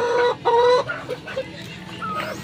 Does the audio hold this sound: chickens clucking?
yes